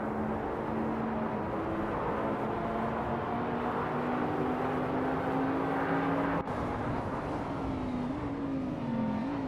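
Race cars at the start of a race at Castle Combe in a racing video game, including a 2020 Toyota Supra GR, their engines droning steadily and close, pitch rising slowly as they accelerate together, with no talk.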